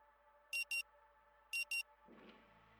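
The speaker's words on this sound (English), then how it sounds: "The frenetic sound of the alarm nudges you back to the present." Electronic alarm clock beeping in the video game Rue Valley, two quick paired bursts of bright, buzzy tones repeated twice over a soft ambient game drone, followed by a low rumbling swell.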